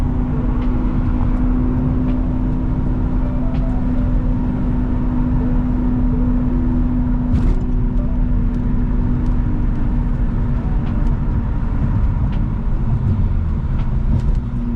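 Loud, steady engine drone echoing in a tunnel, with scattered sharp crackles and pops from the exhaust of a dyno-tuned Nissan G35 coupe over the rumble.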